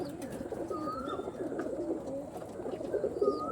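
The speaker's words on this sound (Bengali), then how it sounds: "একদম মিল্টন বোসের ঘরের পায়রা আছে" Domestic pigeons coo steadily in a low, continuous murmur, close and moderately quiet, with faint higher chirps over it and no talking.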